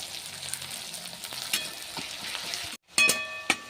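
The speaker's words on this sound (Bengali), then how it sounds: "তেল তো গরম হয়ে গেছে, এবার দিয়ে দেবো পেঁয়াজ কুচি। খুব ভালোভাবে ভেজে নেব।" Chopped onions sizzle in hot oil in a pan for a rohu fish curry, a close, steady frying crackle with light stirring and a brief drop before the sizzle bursts back.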